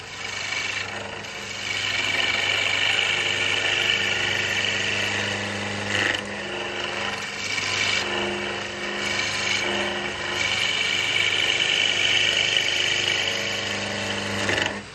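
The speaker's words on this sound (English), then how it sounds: "So, let's make it round first. I like to use a peeling cut." A wood lathe spins a wooden snowman blank while a peeling cut rounds it, a steady motor whine with a rough scraping cut that swells and fades over several passes, close and continuous with no talk.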